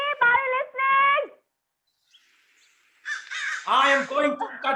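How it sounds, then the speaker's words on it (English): Crows caw among trees in New Delhi, harsh nasal calls in two quick bursts, a short quiet gap, then a denser overlapping flurry of loud cawing close by. "These damn birds spreading filth and disease everywhere."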